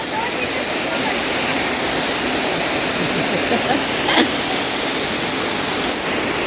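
The Akole waterfall in Palghar district pours in a rainy-season setting, giving a steady, loud, broadband roar of rushing water that holds constant throughout without a break.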